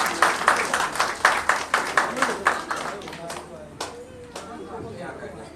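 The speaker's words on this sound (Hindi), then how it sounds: "आप एक बार जोरदार ताली दीजिए" An audience at a Poddar Vaishya Mahasabha event in West Bengal applauds an honoree, with rhythmic group clapping that is loud at first and then fades to a few scattered claps while voices murmur.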